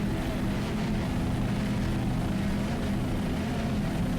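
36-foot Sonic racing powerboat with twin 500-horsepower Mercruiser inboard engines, a steady loud engine roar droning without a break throughout.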